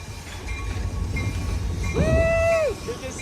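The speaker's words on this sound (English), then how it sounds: "And Chris, we're on an amazing train, and we're here at the Nevada Railway Museum in Boulder City, Nevada." Rumble of a train ride at the Nevada Railway Museum in Boulder City, a steady low rolling drone with a short, rising then sustained tonal whistle or squeal near the end, moderately close.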